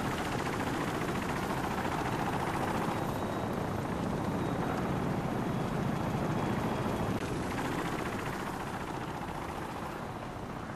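Helicopter rotor drone from Call of Duty gameplay, a steady loud broadband whir and chop filling the whole stretch without a break, with no voices over it.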